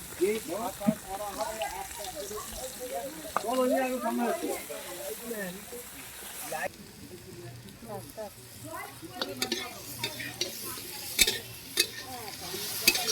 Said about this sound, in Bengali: তারপরে ডিমের ঝাল করার জন্য পেঁয়াজ ভাজা হচ্ছে। আর একটা মুড়ো ভাজা হচ্ছে